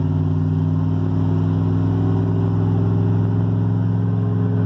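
A lowered pickup truck on a road in Mexico hums along at highway speed. Its engine drone is steady and continuous, heard close from inside the cab, with no voices.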